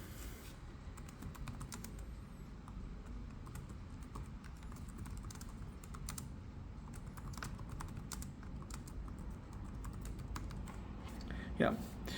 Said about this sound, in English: I really do enjoy typing on it.